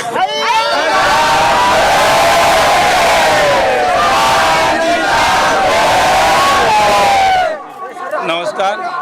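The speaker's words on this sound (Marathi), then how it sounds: "श्रद्धाळू भक्तांनी दर्शनासाठी मोठी गर्दी केली" Crowd of devotees cheering at a jyot yatra arrival in Darganhalli village, a loud sustained roar of many voices shouting and chanting together for about seven seconds before cutting away to quieter scattered voices.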